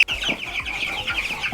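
Backyard chickens cluck close by in a short burst of repeated, rhythmic calls, with no voices over them.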